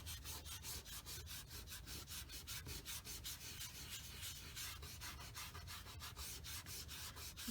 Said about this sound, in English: So basically, you just rub it in.